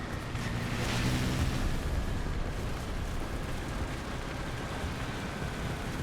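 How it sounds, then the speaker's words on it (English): Bombs exploding in War Thunder around a slow Italian Semovente da 75/18 M41 tank destroyer, a loud rolling rumble that swells early and then settles into a sustained heavy roar, with no voices. "Oh no, bombs."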